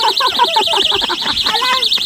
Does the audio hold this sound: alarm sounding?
yes